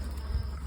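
Honey bees from a captured wild swarm buzz around hive frames, a brief, steady low drone close by with no voices.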